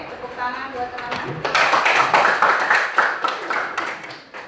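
Applause for classmates in a classroom: a burst of many hands clapping begins partway through and continues as a dense, lively patter with some talk mixed in.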